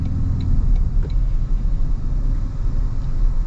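A 2025 Toyota Tundra with a twin-turbo V6 accelerating, heard as a deep, steady engine rumble with road noise, loud and close with no pauses.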